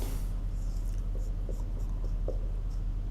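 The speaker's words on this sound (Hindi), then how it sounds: "क्वेश्चन लिखते हैं" Pen scratching across paper while a question is written out, a soft, steady scribble with a few brief sharper strokes, close and alone over a low hum.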